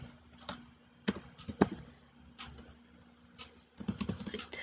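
Computer keyboard typing while writing CSS code, quiet near keystrokes in short irregular bursts with pauses between clusters of taps.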